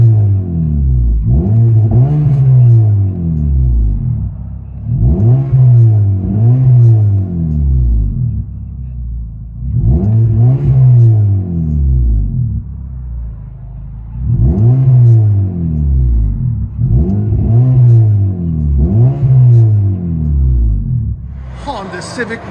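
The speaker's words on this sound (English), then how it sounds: "With a resonator delete and stainless steel muffler with a turn down tip." A 2012 Honda Civic with a resonator delete, stainless steel muffler and turn-down tip revs repeatedly from the cabin: about seven loud, rumbling throttle blips, each rising and falling in pitch, separated by brief idle pauses.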